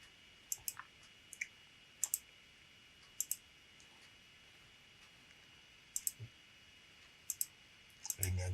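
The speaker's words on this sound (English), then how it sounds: "So let me click this" Computer mouse clicks during website design work, sharp close double clicks repeated about a second or two apart over a faint steady hum, with a brief noise at the very end.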